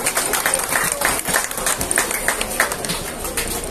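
Audience clapping at a Durga Puja prize distribution, a dense, steady round of applause that fills the whole moment, with a little chatter mixed in.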